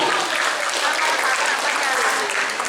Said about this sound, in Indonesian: Tepuk tangan dulu di Zaskia.